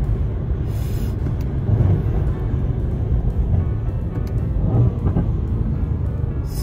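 A 600 hp Mercedes C63 on a road drives a deep, heavy engine roar during a launch-control run, rumbling steadily with a couple of swells in intensity, no talk over it.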